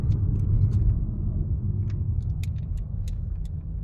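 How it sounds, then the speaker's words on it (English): Steady low rumble inside a moving car on a South African road, with faint rattles and light ticks over the continuous road and engine drone, loud and close, no talk. "Natural sounds of traveling in a car."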